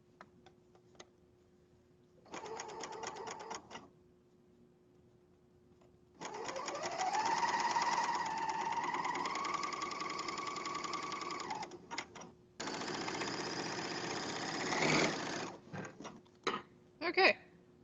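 A sewing machine stitches pajama pieces together in several bursts, a short run first, then long steady runs with the motor's pitch rising, ending in a few quick stops and starts.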